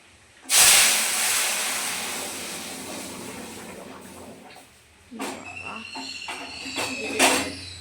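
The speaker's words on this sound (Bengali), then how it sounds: "এই যে সর্ষে শুকনো লঙ্কা ফোড়ন দিয়ে দিলাম, এখন মা ডালটাকে দিয়ে দেবে।" Mustard seeds and dried red chillies hitting hot oil as a tempering for dal, a sudden loud hiss that slowly fades, then a second burst of sputtering and crackling, with a voice speaking nearby.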